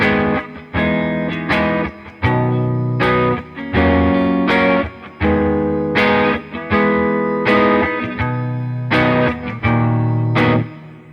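Electric guitar strums the chord shapes of a riff in a steady repeating rhythmic pattern, with a bright, slightly effected tone, loud and alone.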